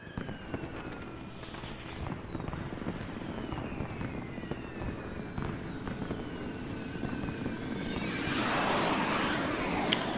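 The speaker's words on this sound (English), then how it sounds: "Gotta love these fireworks." Fireworks fill a Final Fantasy XIII cutscene with a dense, continuous roar and crackle, faint sweeping whistles gliding across it, and the bursts growing louder and brighter toward the end.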